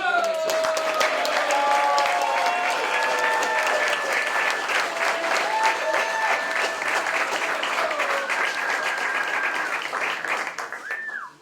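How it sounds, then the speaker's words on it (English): A room full of people at a ski-community anniversary gathering applauds steadily, a broad sustained clatter of many hands with whoops and cheers over it, tapering off at the very end. "a round of applause for Buena Vista"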